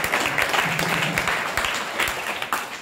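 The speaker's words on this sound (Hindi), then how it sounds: "ताली बज जाए।" Audience applause fills a Sunday Love Feast lecture hall: steady, dense clapping from many hands, fairly close and even throughout, with no talking over it.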